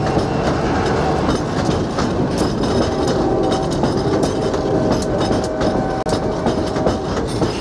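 A CSX freight train of rotary covered hoppers rolling past nearby in Florida, 1995, continuous rumble with rhythmic clickety-clack of wheels and occasional metallic clanks and squeals, no voices.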